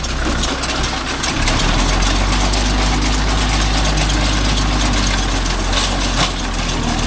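A Kubota MU4501 tractor engine runs loud and close with a heavy, steady diesel drone. It revs up slightly early on while driving for baler cutting work, then holds a constant, dense roar.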